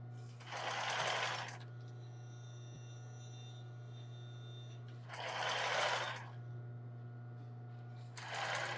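Sewing machine backstitching an embroidered tulle bra, running in three short bursts with pauses between them over a steady low electrical hum.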